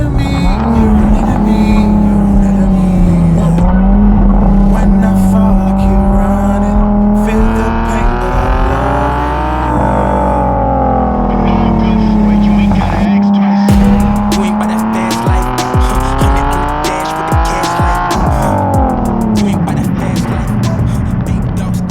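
Loud, close Nissan 370Z Nismo engine revving through the gears, pitch rising and dropping with quick heel-and-toe throttle blips on downshifts, tires squealing at moments while cornering.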